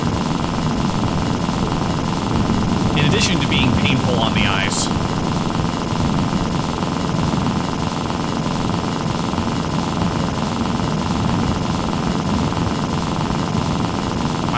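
A motorcycle engine in The Long Drive driving game drones steadily and loudly throughout, a harsh, rough buzz that never lets up, with someone talking over it.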